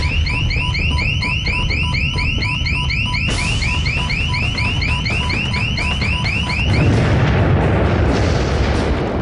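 On the Deepwater Horizon oil rig during a blowout and fire, a repeating warbling alarm sounds loud and close over a dense rumbling roar, then gives way to heavy continuous noise, with no voices.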